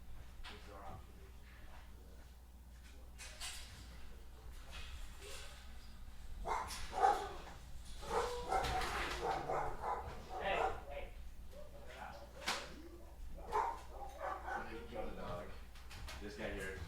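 A dog barks repeatedly at a rescue kennel, the sharp yaps and woofs carrying from a moderate distance with some whimpering, heard under ongoing human conversation.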